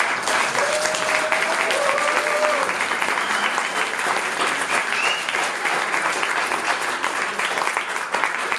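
An audience claps loudly and steadily after a song at a concert in a media library, a dense continuous wash of applause that stays even throughout.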